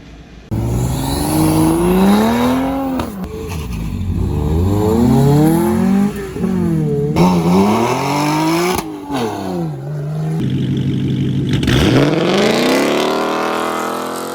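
Tesla Model 3 SR+ electric car driven hard around a race track, its rising and falling motor whine loud and continuous across the lap, sweeping up and down with acceleration and braking, with no talk.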